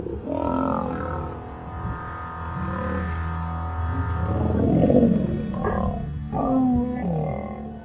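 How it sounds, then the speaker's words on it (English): A lion roars and growls while locked in a fight with another lion, deep drawn-out rumbling roars that swell and overlap, loud and close. "He had a mouth full of lion and he was roaring."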